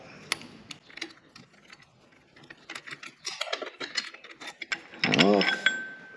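A small handheld hydraulic flaring tool works a brake line on a car, giving sparse mechanical clicks and ratcheting ticks, followed by a louder burst of metallic creaking and scraping near the end, with faint speech in the background.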